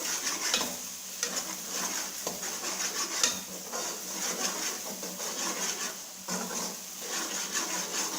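Spoon stirring mash dal in a cooking pot, soft scraping and gentle clinks against the metal sides with a faint sizzle, close and quiet, in irregular strokes.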